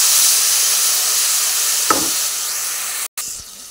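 Spiced, mixed vegetables hit hot oil left from frying puti fish, giving a steady loud sizzle and hiss with a brief clatter near the middle and a short gap before the frying resumes.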